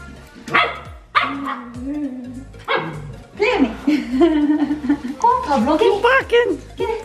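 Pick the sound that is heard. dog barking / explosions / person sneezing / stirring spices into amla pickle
dog barking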